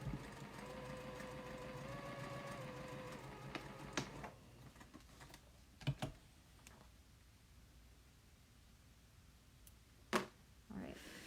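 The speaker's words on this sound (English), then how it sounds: "Now I'm sewing straight through the intersection." A sewing machine runs steadily for a few seconds while stitching a quilt seam with a 1/4 inch allowance, then stops, followed by sparse handling clicks and taps of fabric nearby.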